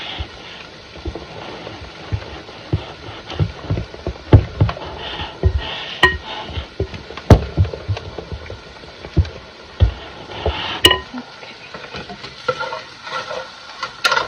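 Olive oil being stirred into sausage in a bowl, with irregular wet squelching and scraping knocks from the spoon, close and moderately loud, no voices.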